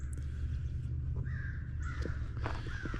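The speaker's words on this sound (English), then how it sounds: "other than the damn crows waking us up, it was a good night's sleep" Crows caw a few times at a moderate distance at a campsite by Bledsoe Creek, harsh calls repeating over a steady low rumble of background noise.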